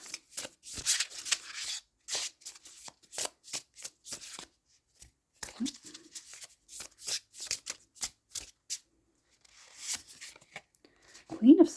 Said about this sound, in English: we're just going to grab one more card here